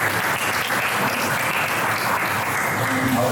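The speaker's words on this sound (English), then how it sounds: "So can we just do a clap for this?" A room full of people claps in a loud, close, continuous burst of applause, dense and steady from start to finish.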